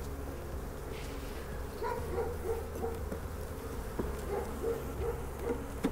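Honey bees in an open hive give a faint, continuous buzzing drone during an inspection for queens, with scattered light clicks and rustles.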